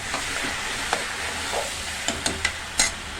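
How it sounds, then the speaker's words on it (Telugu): Tomatoes go into a hot frying pan while cooking tomato dal. There is a steady close sizzle of frying, and several sharp scrapes and clicks of stirring rise above it near the end. "కొంచెం వేగింది కదా, టమాటా కూడా వేసేస్తున్నా."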